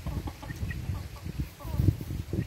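Chickens cluck softly and repeatedly at close range in a coop, newly arrived birds among the flock, with low murmuring clucks and a few sharper calls over a dull background.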